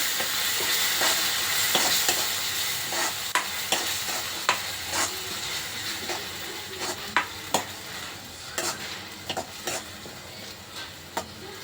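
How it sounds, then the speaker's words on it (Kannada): Tomato masala frying in a pan for egg burji, a steady close sizzle broken by frequent sharp scrapes and clicks of a spatula stirring against the pan, with no talking. "ಅದು ಚೆನ್ನಾಗಿ ಫ್ರೈ ಆಗಲಿ, ಸ್ವಲ್ಪ ಟೊಮೊಟೊದು ಹಸಿ ಸ್ಮೆಲ್ ಹೋಗಲಿ."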